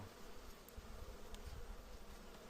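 Honey bee flying around the hive during end-of-season work, a low buzzing hum with a few brief louder passes, faint and close over steady background noise.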